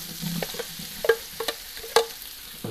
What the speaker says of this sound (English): now we add the prawns. Okay, look at the sizzling stuff.